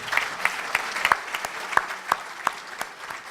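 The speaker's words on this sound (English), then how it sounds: "How about a round of applause for MarySue?" Sparse applause from a small audience at a water and government management panel, a handful of separate, fairly loud claps spaced out over a faint background of clapping.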